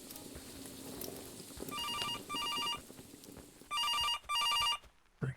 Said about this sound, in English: I can hear the phone ringing.